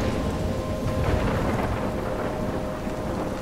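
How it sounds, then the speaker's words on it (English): Heavy rain and rumbling thunder from a video game storm at sea near a lighthouse in Life Is Strange, a dense, steady roar of downpour with low rolling thunder throughout and no voices. "I'm trapped in a storm?"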